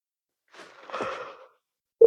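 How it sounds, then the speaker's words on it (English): A person yawning, a soft breathy drawn-out exhalation lasting under a second, close and quiet, ending with a brief clipped vocal sound. "yes, I did just yawn at you"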